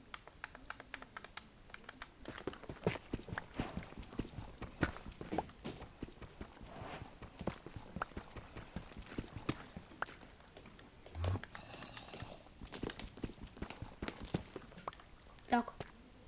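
Quick footsteps of a character moving through a mine in a video game, a steady run of soft clicks and taps throughout, close and fairly loud, with a person talking in places.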